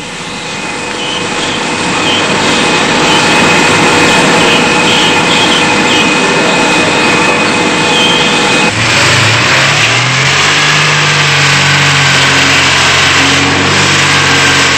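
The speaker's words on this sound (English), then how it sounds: "Engine being built and tested to improve fuel economy and to reduce noise." A loud 1982 Skoda car engine on an automatic test bench runs steadily and high-pitched for several seconds, then drops abruptly to a lower, rougher idle that continues, with no voices.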